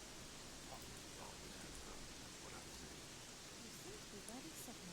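Steady rain in the video game Gothic 3, a dense even hiss that holds at the same level for the whole stretch, with a few faint scattered sounds drifting in underneath.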